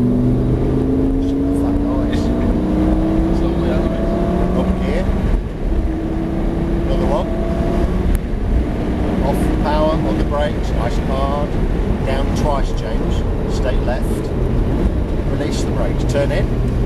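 Lamborghini Gallardo accelerating on a race track at Prestwold, a loud steady engine drone whose pitch rises through the gears, heard from inside the car with wind noise and people talking over it.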